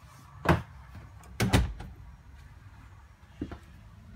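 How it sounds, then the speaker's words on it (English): A sliding barn-style door in the bedroom of a 2020 Jayco White Hawk 31BH travel trailer rolls and bumps, giving a few sharp knocks and clunks spaced over several seconds with quiet rustling between. "it's a barn door that slides across"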